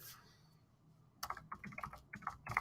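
A quick, uneven run of close computer-keyboard keystrokes follows a short quiet pause, with crisp clicks tapping out search keywords.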